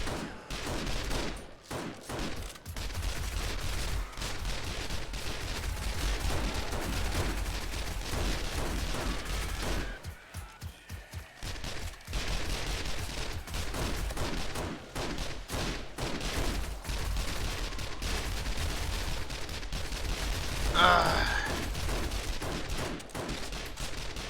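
Gunfire in the video game 7 Days To Die, a loud, dense automatic fusillade rattling almost nonstop, with a brief break partway through before the shooting resumes.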